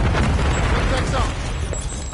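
A Semtex grenade detonates in a video game shooter, a loud broad boom that rumbles and fades across the clip, with game chatter and gunfire-like noise underneath.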